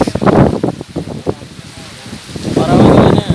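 Heavy rain pours at a lakeside fishing spot, a dense steady wash that swells and eases, with no clear thunderclap standing out; close and loud throughout.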